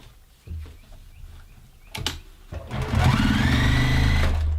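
A JUKI TL-2010Q sewing machine starts with a few slow clicks and thumps, then runs up to a loud steady whirring stitch through six layers of denim, close and unaccompanied by talk.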